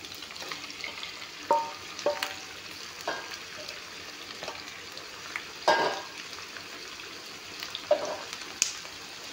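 Chicken pieces and onions fry in a pan with a soft, steady sizzle, broken by a few sharp clinks and scrapes of stirring, close by with no talk.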